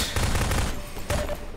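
Gunfire from a weapon in the video game Half-Life 2: two loud, rapid bursts of shots close together, the first longer and the second brief, with no talk over them.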